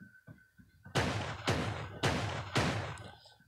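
Four heavy shotgun blasts from the game Creative Destruction fire in a slow, evenly spaced rhythm, each loud and close with a booming decay, after a few faint softer thumps.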